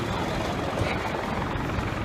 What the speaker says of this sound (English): They have helicopters in the air.